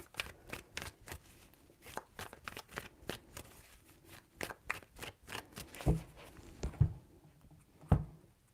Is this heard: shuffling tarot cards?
yes